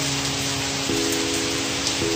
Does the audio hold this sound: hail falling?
yes